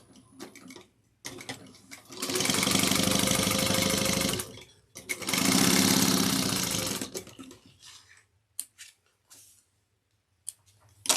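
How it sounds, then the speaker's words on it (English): A sewing machine top stitches a woven tote at an eighth of an inch, two sustained loud runs of fast needle chatter separated by a short pause, followed by quiet handling clicks. "we're going to top stitch this at 1/8 of an inch"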